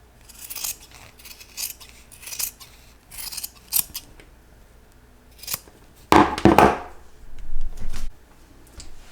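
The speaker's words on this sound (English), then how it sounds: "Then we're going to trim the seam allowance to 1/4 inch." Scissors trimming a fabric seam allowance, a series of crisp snipping cuts at irregular intervals, close and fairly quiet, with a louder cluster of cuts and rustling fabric toward the end.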